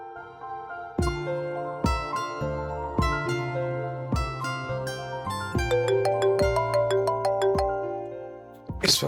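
A mobile phone ringtone chimes alone, a bright repeating melodic pattern of tones rising in density over several seconds, fairly quiet with no talking.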